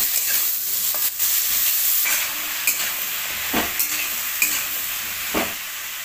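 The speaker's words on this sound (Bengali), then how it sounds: "কুমড়োগুলো দিয়ে আমি আবার নাড়াচাড়া করবো।" Pumpkin and potato pieces are stirred while frying in a pan, giving a steady sizzle broken by sharp scraping strokes of the spatula, loud and close.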